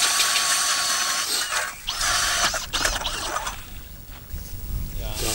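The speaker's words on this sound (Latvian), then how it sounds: "Tur foniņā buržujā urbi ar urmašīnu." A power drill bores a hole through lake ice while ice fishing in winter, a steady mechanical whir running under outdoor noise as people talk.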